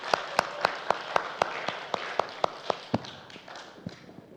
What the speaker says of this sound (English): Let's give him another clap there.